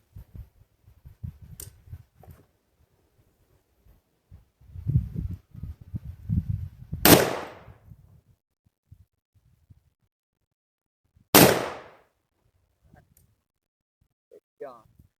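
Two sharp, loud rifle gunshots from a Bear Creek Arsenal 6.8 SPC upper ring out several seconds apart, each with a brief echoing tail, amid handling noise and rustling at a shooting range.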